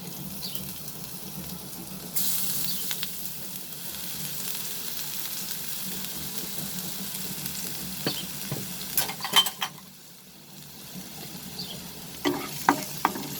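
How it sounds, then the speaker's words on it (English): Chopped ginger and garlic frying in oil with red chili in a pan for mixed vegetables, a soft continuous sizzle and splatter with scattered clinks of a spoon stirring, mostly quiet and close, without speech. "Let it splatter for some time. And now I will add the chopped ginger and garlic."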